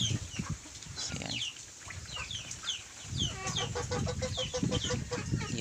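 Native chickens on a Philippine farm cluck and chatter at close range, overlapping calls and short squawks filling the outdoor air, with no speech over them.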